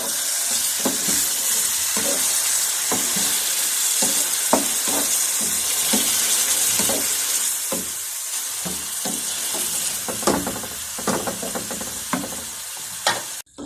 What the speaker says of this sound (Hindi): अब मैं चिकन डालने लगी हूँ पैन में।